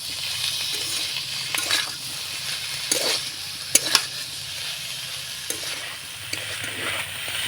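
Small pieces of paneer stir-fried with spices in a pan for rolls: a constant soft sizzle with occasional scraping stirs and a couple of sharp metallic clinks of a spoon against the pan, close, no speech.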